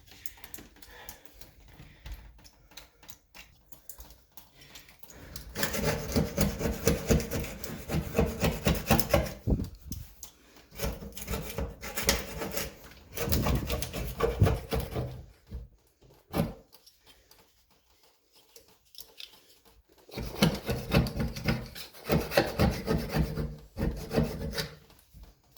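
Old silicone caulk and mold are scraped out of a shower seam with a hand tool in close, scratchy bursts of rapid strokes, several seconds each, separated by brief pauses.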